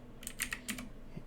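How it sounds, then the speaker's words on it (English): Quick run of keystrokes on a computer keyboard, a handful of soft close clicks in a short burst. "type in Paragon in there"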